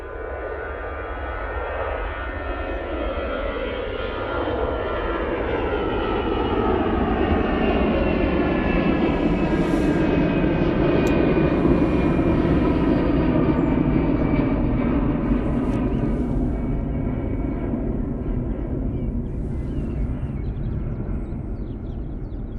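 An EasyJet airliner departing Manchester Airport for Geneva in low visibility, its jet engines building to a loud, sustained roar with a sweeping tonal whine that holds steady as it climbs away, with no talk.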